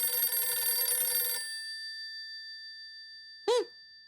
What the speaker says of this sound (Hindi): फोन किसका आया है?